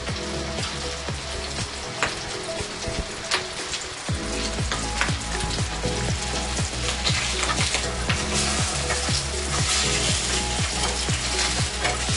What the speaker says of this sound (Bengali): আমাদের মাছ ফ্রাই শুরু হয়ে গেছে।